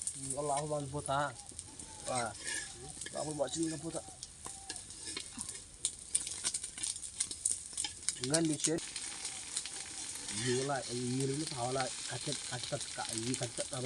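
Fish frying in a pan of oil over an outdoor fire in a garden, a steady close sizzle and crackle running throughout, with voices talking intermittently over it.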